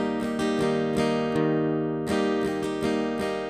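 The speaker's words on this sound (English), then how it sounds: "I could play a strumming pattern in 3-4 which looks like this and sounds like this." An acoustic-sounding guitar strums chords in a 3/4 pattern, with crisp, evenly spaced strokes ringing out close and clear over three and a half seconds, played alone without voices.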